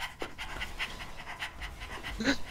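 A person imitates a dog's panting with quick, repeated breathy huffs, fairly close and steady throughout, with a louder burst near the end.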